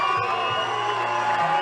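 A crowd at an under-17 boys' national softball grand final between New South Wales and Queensland cheers steadily, with whoops and shouts forming a continuous, fairly loud wash of noise.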